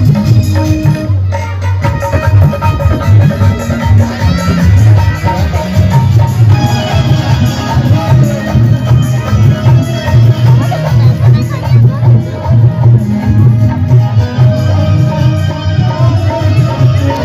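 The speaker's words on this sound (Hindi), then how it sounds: "ये भीड़ देख रहे हैं, भीड़ काफी जबरदस्त भीड़ है।" A large, dense crowd at a Kali Puja pandal fair in Varanasi, a steady loud hubbub of many voices with music-like tones underneath, continuous throughout.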